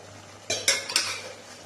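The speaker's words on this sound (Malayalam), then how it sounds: "ഇത് നല്ലതുപോലെ ഇളക്കി കൊടുക്കുക" A spoon scrapes and clinks against a pot of green gram and vermicelli payasam in a few quick strokes, close and fairly quiet, with a faint steady hum underneath.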